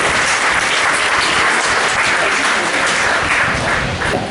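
Audience cheering and applause at a medical cannabis workshop in Brisbane's West End, a loud continuous wash of clapping from a full room, unbroken throughout.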